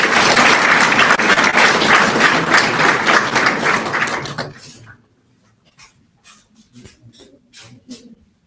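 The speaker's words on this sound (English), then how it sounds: "Please give a warm round of applause." Dense, loud audience applause at a university and industry MoU signing ceremony, a full crowd clapping for about four seconds before fading out, leaving a few scattered late claps in a quiet hall.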